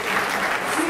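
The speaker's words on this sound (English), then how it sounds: "Can you have a round of applause for Johnny at the back there?" A crowd applauds the caterer Johnny at an evening event, steady dense clapping filling the whole second, close and fairly loud.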